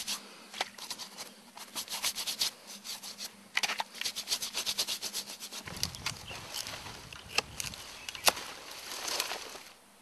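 Brisk scrubbing with a small nail brush at a bushcraft camp, a run of quick rasping strokes in bursts, fairly close and steady, with no voices.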